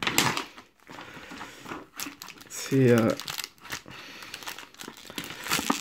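Plastic wrapping and tape crinkle and tear in short bursts as a Pokémon XY Evolutions trading card tripack is opened, mixed with someone speaking nearby.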